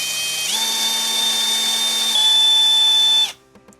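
A power drill whines steadily as it bores a hole through a Mickey bubble blower handle, its pitch stepping once midway, then stopping abruptly as the motor cuts off.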